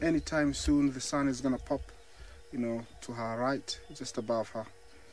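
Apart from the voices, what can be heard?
No distinct noise like a dog, phone or traffic.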